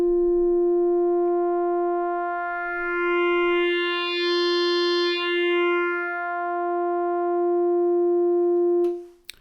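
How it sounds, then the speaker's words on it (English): A synthesizer oscillator gives a steady, bright tone whose harmonics swell and shimmer as fast frequency modulation is applied, then fade back before a sharp cutoff at the end. "let's hear what happens when oscillator A starts to modulate its frequency very quickly."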